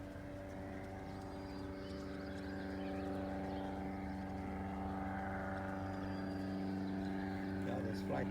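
An aircraft on the flight path from Randy Airport passes overhead with a steady, distant droning hum that swells slightly as it goes.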